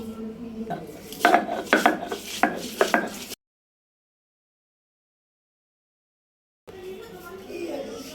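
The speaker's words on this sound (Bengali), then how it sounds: "এখন আমি পেঁয়াজটাও বেটে নেবো" Onion being ground into paste on a stone slab, with a dense scraping, rubbing rhythm of close strokes for about three seconds, then a silent gap before the grinding resumes more softly.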